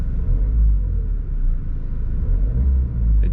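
A Ford Focus engine idles after its engine mounts were replaced, heard from inside the car as a steady, smooth low rumble with no other sounds.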